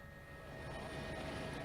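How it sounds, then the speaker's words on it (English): A helicopter flies over a flood-ravaged area of Brazil, giving a faint, distant, steady engine drone with a slight hum that builds a little in loudness. "Helicopters are the only way to reach some people who need help"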